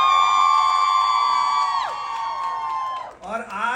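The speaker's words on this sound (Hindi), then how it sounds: "बहुत जोरदार तालियां सबके लिए।" A crowd of fans at a live meet-and-greet tour stop in New Jersey lets out loud, sustained whooping and cheering that rises and then slides down in pitch before a voice begins over it.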